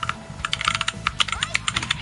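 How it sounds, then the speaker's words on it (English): Rapid clicking of mechanical switch buttons on a Snack Box Micro all-buttons controller, a dense run of close, crisp presses with no talking. "Yeah, sorry for the noise, but I do like the keyboard sounds."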